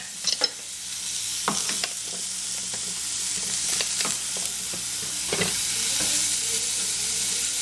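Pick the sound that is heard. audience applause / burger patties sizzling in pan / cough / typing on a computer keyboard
burger patties sizzling in pan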